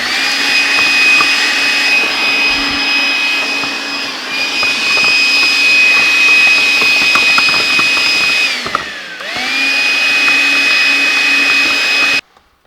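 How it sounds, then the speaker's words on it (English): A loud, steady vacuum cleaner drone with a high whine as dust and dirt are vacuumed from a 2018 Ford Escape, briefly dipping in pitch near the end before cutting off abruptly. "so I'm gonna go ahead and vacuum that."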